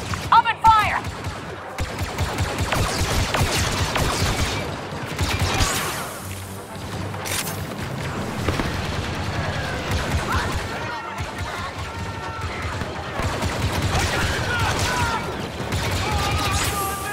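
Heavy gunfire and explosions from the Star Wars Battlefront 2 video game, a dense continuous battle barrage with repeated shots and crashes under shouted game voices throughout.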